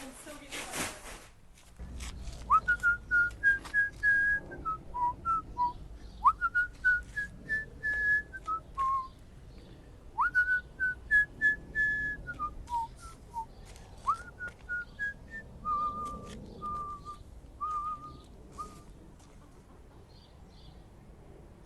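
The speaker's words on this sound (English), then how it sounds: "Here I am whistling to myself" A person whistling a tune outdoors, several clear rising and falling phrases repeated with short pauses, close and fairly loud, with a brief clatter at the start.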